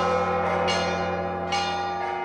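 Church bells rung from a bell tower during Easter week, a continuous dense ringing with repeated strikes about once a second layered over sustained, humming overtones.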